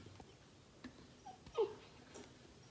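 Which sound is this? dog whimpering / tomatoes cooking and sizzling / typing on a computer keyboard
dog whimpering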